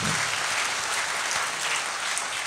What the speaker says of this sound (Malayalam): നല്ല ഒരു കൈയടിച്ച് കൊടുത്തു